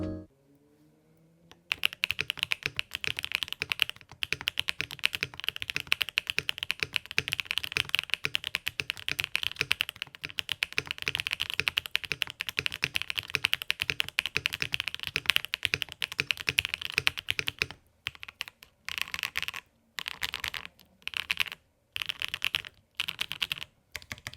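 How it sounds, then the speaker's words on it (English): Fast, steady typing on a computer keyboard recorded close, a dense run of crisp clicks from the switches and keycaps that breaks into short bursts toward the end, with no talking. "if you're doing those keyboard sound tests, you're going to hear all those little subtleties of the switches and the keycaps"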